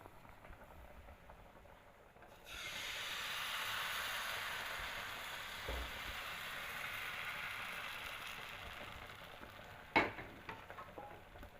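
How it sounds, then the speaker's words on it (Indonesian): Crepe batter cooking in a Teflon pan for an Indonesian dish, a soft steady sizzle that rises after a quiet start and holds, with a sharp clack of a utensil near the end. "masak dengan teflon hingga membentuk dadar seperti berikut"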